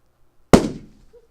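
A balloon bursts once with a sharp, loud pop that decays quickly, standing in as a model of a supernova explosion in front of a lecture audience.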